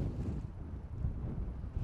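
Gusty wind buffets the microphone beside a Mercedes-Benz EQC at an electric car charging station, a steady low rumble rising and falling over about two seconds with no one speaking.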